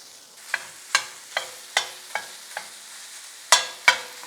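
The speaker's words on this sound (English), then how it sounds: "to cook up those peppers and onions that I already chopped and the ground beef" Chopped peppers, onions and taco-seasoned ground beef sizzle in a pan under a steady, soft frying hiss, punctuated by about eight sharp scrapes and knocks of a utensil stirring, close and without talk.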